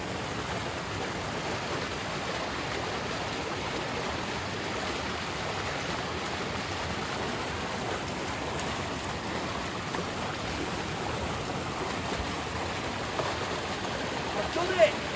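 River water rushing and splashing steadily as someone wades across on a country walk, a constant broadband wash close to the microphone with a small splash near the end.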